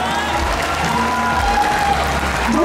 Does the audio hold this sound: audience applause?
yes